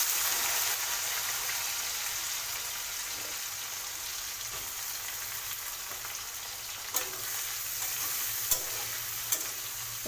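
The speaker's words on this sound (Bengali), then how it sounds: "পেঁয়াজটা লাল করে ভেজে নিতে হবে।" Chopped onions frying in oil with panch phoron and cinnamon, a dense, even sizzle close up, with a few faint clicks of stirring toward the end.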